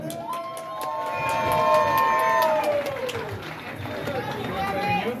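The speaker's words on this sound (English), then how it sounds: "Give him a round of applause." A casino concert crowd at Grand Casino Hinckley cheers and applauds for a band member, a sustained roar of voices, whoops and claps, with talk and tonal sounds running through it.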